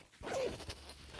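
The zipper of an old backpack used for running gear is pulled in one quick rasping stroke, close and fairly loud, followed by faint handling rustle.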